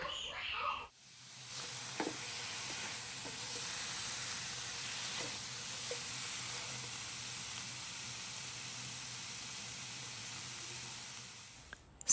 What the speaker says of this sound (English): Season it with some salt and pepper and then fry it until it's brown.